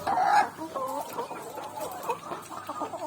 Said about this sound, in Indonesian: Ini kenapa nih ayam kita nih yang berisik-berisik